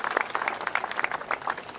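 Brief burst of audience clapping for a sponsor at a San Antonio event honoring the military; the applause is moderately distant and crisp, with no voices over it.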